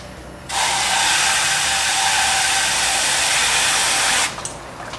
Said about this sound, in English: So let's go ahead and just hose clean out this radiator. Let's go ahead and flush this radiator out.